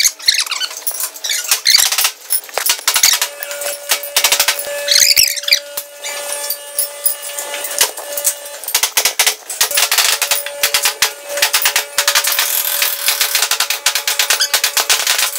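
Nail gun shots fixing support joists for a single-level wooden floor installation in a gym interior, sharp rapid cracks repeating in quick bursts with clatter and squeaks between, close and loud, no talking.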